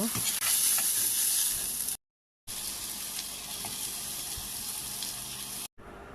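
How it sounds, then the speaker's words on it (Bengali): Leafy greens frying in a pan, a steady close sizzle running throughout with a brief drop to silence partway, with faint stirring or kitchen noise beneath. "আমার শাকগুলো খুব সুন্দর করে ভাজা হয়ে গেছে"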